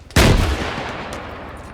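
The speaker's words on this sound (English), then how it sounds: "Let's see if I can get another RPG shot off on them." An RPG launch in the video game Arma 3, a single loud close boom with a heavy low-end thump, followed by a long noisy rumbling tail that stays strong to the end.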